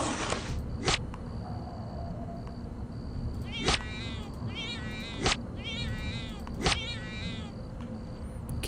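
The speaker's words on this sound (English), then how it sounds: "Cat, stop getting underfoot." A cat meows repeatedly in the video game Deus Ex: Invisible War, four short rising cries spaced a second or so apart over a steady low ambient hum, with a few soft thuds.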